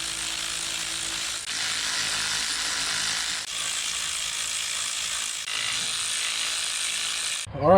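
A ratchet with a 17 mm socket works loose the exhaust manifold bolts on a Nissan Altima 2.5L, giving a steady, close clicking whir in several sustained bursts with brief pauses between them.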